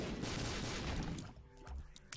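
Dense, rapid bursts of gunfire in the video game The Binding of Isaac: Afterbirth crackle for about a second, then give way to scattered shots and quieter game sounds.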